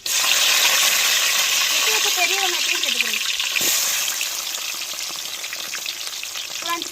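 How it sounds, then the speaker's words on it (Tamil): Curry leaves go into hot oil already holding fenugreek seeds and burst into a loud, close crackling sizzle that slowly settles into a steadier hiss, with no talking over it. "தேவையான கருவேப்பிலை போட்டுக்கிறோம்"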